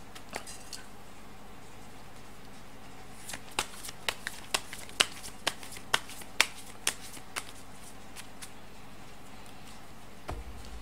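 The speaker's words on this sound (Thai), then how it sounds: "เดี๋ยวจะมาเสี่ยงไพ่ดูให้เพิ่มเติมนะครับว่าดวงชะตาของคุณวันนี้จะเป็นอย่างไรบ้างนะ" Fortune-telling cards are shuffled in a quick run of sharp, close riffling snaps that rise to a burst of crisp flicks in the middle, then trail off into quiet.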